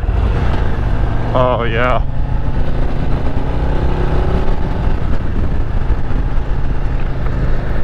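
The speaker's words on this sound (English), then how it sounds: "it's got a really nice rumble to it when you're sitting here at idle" A Harley-Davidson motorcycle, a Street Glide ST or Low Rider ST, rumbles steadily at idle, a constant low throb running through the whole stretch, with a brief spoken remark near the start.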